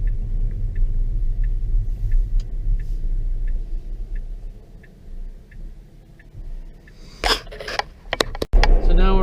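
A Tesla rolls along on Autopilot, its road rumble steady and low with a soft, regular ticking chime repeating at a steady pace, before a few sharp clicks and knocks near the end.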